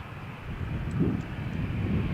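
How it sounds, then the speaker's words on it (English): A Ryanair Boeing 737-8 airliner taxies for takeoff at Malaga Airport on a stormy morning, its engines giving a steady low rumble and whine that holds throughout, with a faint wind-like hiss over it. "Ryanair is taxiing for takeoff to Glasgow in Scotland"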